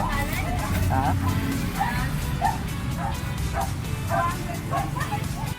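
A new puppy barks and yips in short bursts with a few whimpers, close by, over a steady engine-like rumble from a vehicle ride and some voices.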